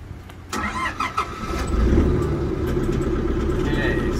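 An MQ Whisper Watt 70kW diesel generator cranks with a short burst and then catches, settling into a steady, loud running drone, with people talking faintly nearby.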